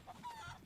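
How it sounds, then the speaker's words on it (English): Chicken clucking in a video game, a short burst of throaty clucks and squawks, brief and moderately close with no talk over it. "Chickens."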